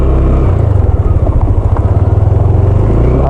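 A motorcycle engine labors close by on wet, muddy ground at a camping site, a loud low throbbing drone that pulses rapidly and unevenly as it strains, with a steadier chugging rhythm building toward the end.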